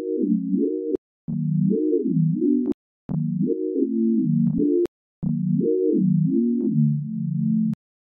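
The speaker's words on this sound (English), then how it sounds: "increase the pitch bend range and then play with the pitch bend wheel" A smooth Serum synth pad plays short phrases whose pitch glides up and down via the pitch bend wheel, bending between notes, with brief pauses and soft clicks between phrases.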